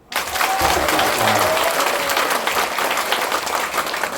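An audience at a health lecture on nitric oxide bursts into applause that starts abruptly and stays full and steady, a dense, close roar of many clapping hands with a brief voice-like tone early on.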